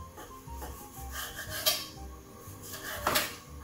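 Knife trimming fat from an NY strip steak on a board: soft scraping and tapping strokes with a few sharper clicks of the blade against the surface, close and fairly quiet, with no voices.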